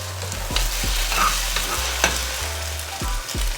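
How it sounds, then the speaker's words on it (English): Scrambled eggs stirred in a hot pan with a spoon, a soft sizzle underneath and several distinct scraping strokes, close and fairly loud, with no talking. "Just give it a bit of a stir."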